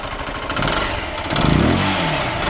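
A Zontes 125 GK motorcycle engine runs through a large pot-style catalytic converter ahead of the exhaust, giving a muffled, steady mid-pitched drone that swells briefly as the throttle is blipped, close by with no talking.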